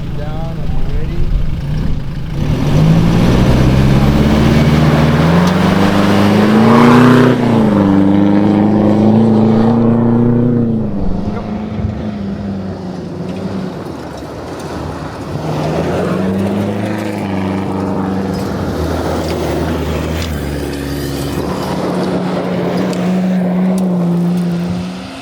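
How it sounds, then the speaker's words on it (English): A powerful diesel Toyota Hilux launches in a rally start, its engine roaring loud and close with rising revs through gear changes, easing off, then building again. "up next we've got a very powerful diesel Hilux from Marcus at Tech Communications"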